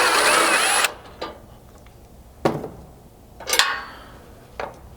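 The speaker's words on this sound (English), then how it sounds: "while supporting the bumper, I'll remove that factory bolt." A tool works on the factory bumper bolt of a Ford Bronco: a loud, steady whirr for about a second, then several short, sharp ratcheting bursts separated by quiet pauses.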